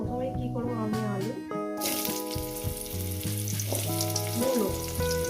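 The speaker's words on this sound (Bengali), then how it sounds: "এই আলু আর মূলোটাকে সুন্দর করে আমি ভেজে নেবো 5 মিনিট ধরে।" Chunks of potato and radish fry in hot oil in a pan, producing a continuous hissing sizzle with occasional stirring, partly masked by melodic background music.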